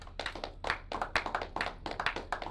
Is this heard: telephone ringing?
no